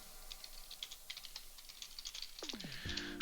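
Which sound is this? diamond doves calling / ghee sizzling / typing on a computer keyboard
typing on a computer keyboard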